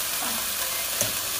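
Sauce is stirred into food sizzling in a pan. A steady, dense frying hiss continues throughout, with a faint scrape of the stirring partway through.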